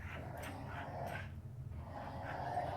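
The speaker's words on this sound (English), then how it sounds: "dogs are being a little bit loud. They're playing." Dogs playing indoors, rough and vocal, with a few short barks, yips and whimpers scattered over about three seconds at moderate loudness.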